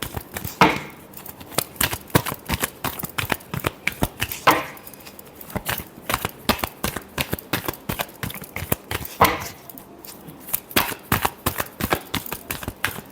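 Tarot cards are shuffled by hand in quick, irregular bursts of sharp riffling clicks and slaps. The bursts run close and steady with brief pauses between them.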